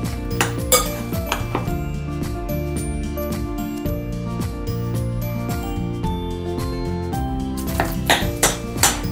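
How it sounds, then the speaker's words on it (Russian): Paprika-seasoned minced meat filling for cannelloni is mixed in a bowl, giving continuous clinking and scraping of a utensil against the dish, busy and close with no talking. "Все хорошо перемешать."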